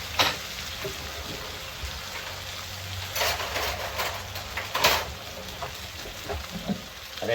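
Butter sizzling and spitting in a hot pan as thornback ray fries, a steady crackling hiss with louder bursts throughout, moderately close and with no voices.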